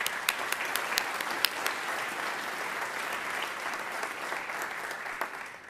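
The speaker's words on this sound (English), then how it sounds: "Please give them a round of applause" An audience at a WGU commencement ceremony applauds in a large hall, a dense sustained wash of clapping with scattered sharper claps near the front, tapering slightly toward the end.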